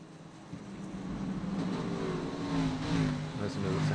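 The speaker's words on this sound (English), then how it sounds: "Listen to the sound of those cars." Xfinity Series stock car engines roar and rev loudly and continuously at Kentucky, a dense mechanical drone with pitch rising and shifting as cars pass, likely over a commentator's voice.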